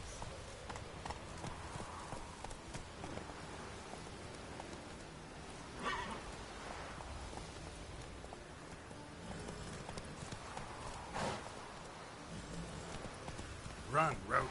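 Roach the horse gallops in The Witcher 3, with steady hoofbeats and an occasional whinny over light rain, all fairly faint beneath ongoing speech.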